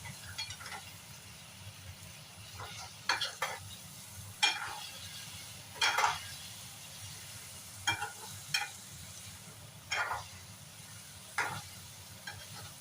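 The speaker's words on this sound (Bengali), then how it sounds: "মশলাটা খুব ভালোভাবে কষাতে হবে।" Spice masala for an elephant foot yam dish fries in a pan over low heat, a soft sizzling bed under periodic scrapes and clinks of a stirring spoon, quiet and close, no voices.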